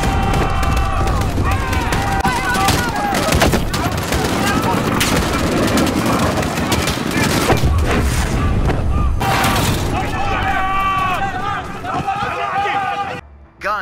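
Dense gunfire from the combat game Call of Duty: Modern Warfare during a battlefield rush, loud and continuous bursts with booms and rattling shots that carry nearly throughout before cutting off abruptly, with voices mixed in.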